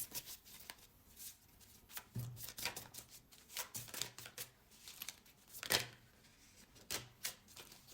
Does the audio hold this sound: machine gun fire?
no